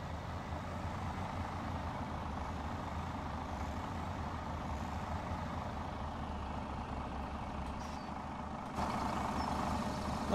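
Heavy truck in Farming Simulator 17 slowly reversing up loading ramps, a steady low engine drone running throughout with a brief hiss near the end, no talking.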